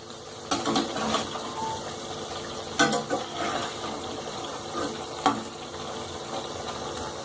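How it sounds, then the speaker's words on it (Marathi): Chakali, a spiral savoury snack, fries in hot oil with a continuous close sizzle and bubbling, broken by a few brief clicks and splashes as the pieces are turned, no speech. "दोन्ही बाजू छान तळून घ्यायचं"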